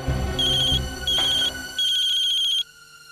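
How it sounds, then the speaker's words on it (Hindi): A mobile phone ringtone sounds in three bursts of a bright warbling electronic tone, each lasting about half a second to a second with short gaps, loud and close, then stops, leaving a quiet room. "किसका फोन है?"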